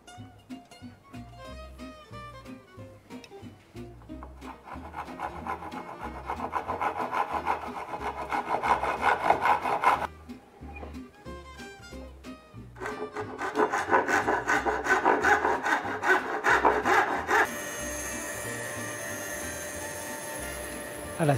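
Rhythmic back-and-forth rasping of a hand saw cutting wood for a mitred door moulding, guided by a wood chisel, strokes speeding up and growing louder, with a brief pause midway.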